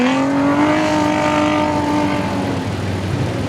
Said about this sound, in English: That mighty V6 out of that Jeep sounds like it just come out of a dune buggy.